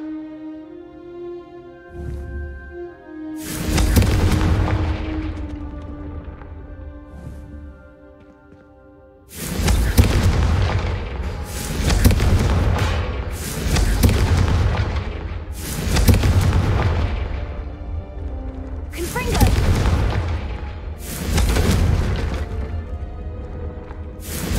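Confringo spell blasts hit candelabras in Hogwarts Legacy, a series of six loud, booming fiery explosions spaced a few seconds apart, each with a long rumbling tail, after a soft magical humming opening.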